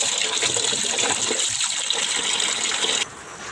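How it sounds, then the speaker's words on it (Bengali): Beef is rinsed under running water, a steady loud gush that flows continuously and drops off slightly near the end. "আর এদিকে মাংসটাও আমি ভালোভাবে ধুয়ে নিচ্ছি।"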